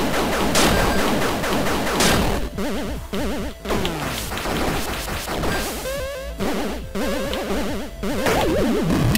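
Retro-style gunfire from the side-scrolling platformer Angry Video Game Nerd Adventures: sharp blips and whacks of shots and hits pop over busy chiptune music, with frequent crashes throughout.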